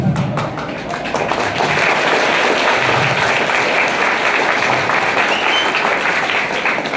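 Sustained applause from a classroom audience, dense and steady for several seconds at close range with no voices over it.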